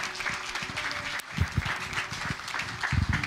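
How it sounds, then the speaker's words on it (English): A church congregation claps in worship, a dense wash of hands with some rhythmic beats and a few distant voices mixed in. "Can we just clap unto the Lord and just invite up the man of God?"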